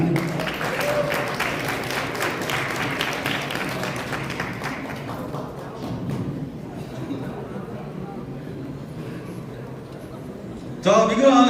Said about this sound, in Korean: 여러분 우리 신랑 친구 위해서 큰 박수 부탁드리겠습니다.